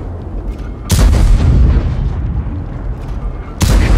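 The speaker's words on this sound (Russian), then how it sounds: "Орудие готово к стрельбе." Su-100 tank destroyer gun in a tank battle video game fires two loud booming shots, one near the start and another near the end, each followed by a rumbling tail.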